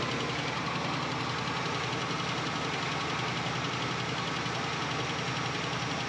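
A car engine running roughly after repairs, idling with a loud, steady, uneven knocking rumble throughout, close and alone with no talk.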